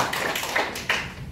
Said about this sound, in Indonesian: Tepuk tangan buat ketua forum.